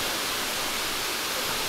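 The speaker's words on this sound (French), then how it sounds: "On arrive à la dernière cascade, qui est très très haute hein, quand même." A very tall waterfall of about 35 metres, the last drop on the Seven Cascades hike in Mauritius, pours as a steady, dense broadband roar, close and continuous with no voices.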